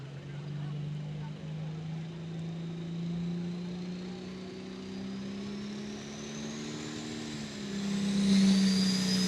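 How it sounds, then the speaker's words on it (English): A John Deere pulling tractor's heavy engine drones steadily at low pitch at a tractor pull, its tone slowly shifting, then rises louder and higher toward the end as the throttle opens. "Dylan Barnett out of Lafayette, Kentucky on the John Deere tractor"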